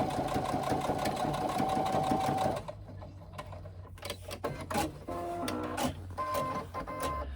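A sewing machine stitches a 3/8 inch seam on a fabric tote bag, giving a steady close mechanical whir for about two and a half seconds before dropping to quieter clicks and handling noises.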